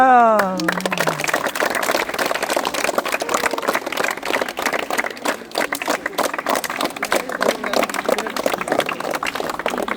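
Schoolchildren at a World Environment Day tree-planting event clap in a long, dense patter of applause that carries on for ten seconds after a brief spoken word at the start.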